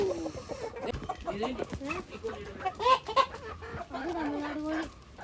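Chickens at a backyard coop cluck busily and close by as grain is scattered to them, a dense run of overlapping clucks and squawks peaking mid-way, with some human talk mixed in.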